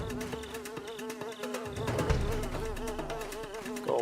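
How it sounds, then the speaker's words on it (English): A swarm of bees in the action game Devil Slayer Raksasi hums and drones steadily nearby, the wavering buzz rising and falling as the insects circle, with game effects beneath it. "Keep our distance from those bees"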